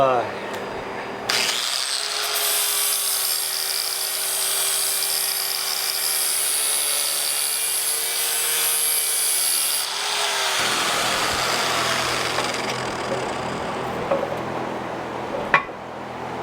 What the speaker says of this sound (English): the only choice I have is to grind this bit here